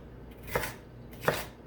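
Knife slicing lengthwise through a vegetable on a cutting board for the holy trinity, two distinct crisp chops about a second apart, close and fairly quiet.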